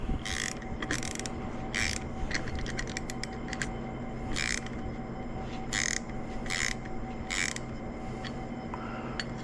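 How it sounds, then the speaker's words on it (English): A wrench ratchets as M12 bolts with Nylock nuts are tightened on a DIY FG knot puller, with repeated clicking bursts in uneven runs over a steady background hum and no talking. "we'll just tighten it on till the Nylock bites in"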